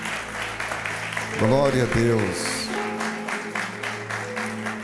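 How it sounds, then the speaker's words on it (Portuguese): Congregation applauding in a church service, a steady broadband wash of clapping running the whole way through while a preacher's voice speaks loudly over it. "Isso, aplauda bem forte."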